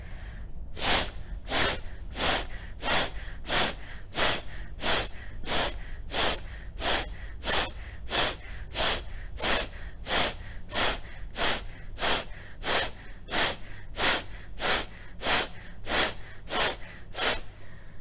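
Rapid rhythmic nostril breathing during a breathing practice, sharp forceful exhalations repeating steadily about once per second, close and loud with no talking.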